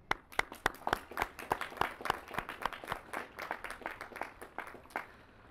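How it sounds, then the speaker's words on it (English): Audience at a college graduation ceremony applauds supporters of the graduates, a moderate crowd clapping in a fairly sparse, uneven rhythm with distinct individual claps, steady for several seconds before thinning out. "Let's show our love and gratitude for their support with a round of applause."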